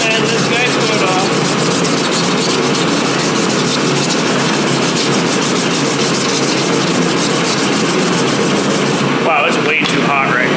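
Guide coat is sanded off primed car bodywork with a continuous, close, abrasive rasping and rubbing that runs steadily throughout, with a short shift in tone near the end.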